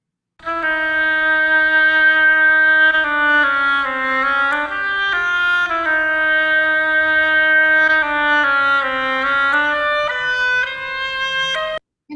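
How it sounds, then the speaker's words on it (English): A solo oboe plays a steady, reedy melody of held notes with a bright, nasal tone, close and fairly loud, with no talking. "the oboe sounds like this."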